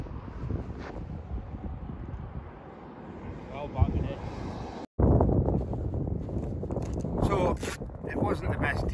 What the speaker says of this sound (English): Wind's coming across